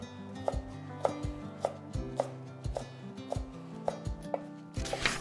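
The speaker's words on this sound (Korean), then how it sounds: "한 1cm 간격으로 채 치시면 됩니다." A knife slices food into strips about 1 cm wide on a cutting board, making crisp, evenly spaced chops roughly twice a second, close and clear.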